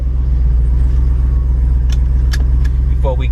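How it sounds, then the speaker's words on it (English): A 2021 Jeep Wrangler Rubicon 392 with its V8 HEMI engine idles with a loud, steady low rumble, while a few brief clicks and rattles sound nearby. "I want y'all to hear that start up."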